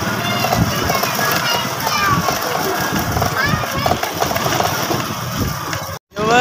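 A motorcycle engine runs steadily near the microphone, idling with a constant rumble, while people talk nearby; it cuts off briefly near the end.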